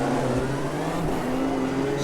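Racing cars in the sim game Automobilista 2, a BMW among them, roar past with steady engine drone and rising, shifting pitch tones over a dense rumble, loud and continuous for a couple of seconds.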